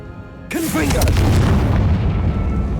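A Confringo spell fired in Hogwarts Legacy erupts with a sudden loud fiery blast, its booming roar sustaining and rumbling for over two seconds while a voice shouts the incantation at the start.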